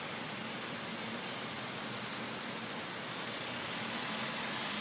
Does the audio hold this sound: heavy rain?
yes